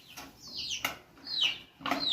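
A breeder hen, one of a jet black pair of birds, clucking in short, separate bursts, three or four calls spread over a couple of seconds, fairly faint and heard alone without talk.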